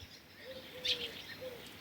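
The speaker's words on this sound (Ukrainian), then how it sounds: "Горобців на вишні багато." Sparrows in a village cherry tree give faint, scattered chirps in short bursts, heard at a distance against quiet rural background.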